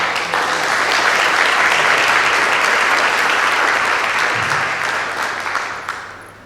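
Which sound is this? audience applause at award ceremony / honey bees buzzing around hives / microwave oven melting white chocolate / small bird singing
audience applause at award ceremony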